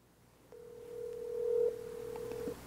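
A single long steady ringback tone sounds on a mobile phone call placed through a newly installed cell phone booster, a flat electronic tone of about two seconds, faint and clean with a little background hum.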